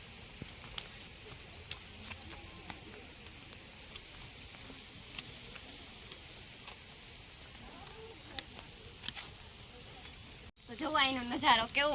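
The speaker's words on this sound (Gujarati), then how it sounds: "આજ ઘણા દિવસો પછી આજ વરસાદ ચાલુ થયો છે" Rain falls steadily after many dry days, a continuous soft hiss of patter with scattered faint ticks. A louder voice breaks in near the end.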